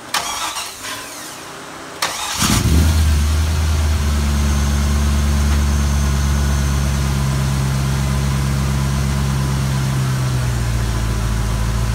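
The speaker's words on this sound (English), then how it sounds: "Let me go start the car real quick." A car with a 5.3 V8 and dual exhaust cranks briefly, catches and fires up loud and close, then settles into a deep, steady rumbling idle that holds for several seconds.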